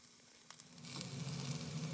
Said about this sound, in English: Add a sliced yellow onion.